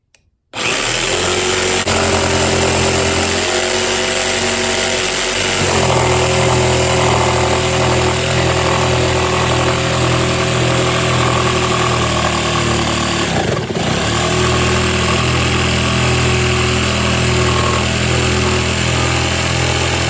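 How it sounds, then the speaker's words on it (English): A jigsaw cuts through repurposed box spring wood clamped to a workbench, a loud, steady buzzing drone that runs almost continuously, with a brief dip partway through as the blade pauses before resuming. "I'll be using the jigsaw to make those cuts"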